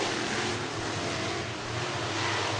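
Modified race cars fire their engines at Stuart International Speedway in Iowa before an IMCA modified heat race: a loud, steady, dense engine roar holds throughout with no pauses.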